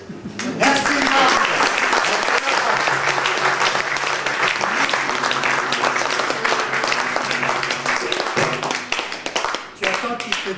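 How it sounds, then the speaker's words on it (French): Sustained audience applause from a crowd at a café discussion event, loud and steady for about ten seconds with a brief dip near the end. "Là, tu as vu direct, ils ont applaudi."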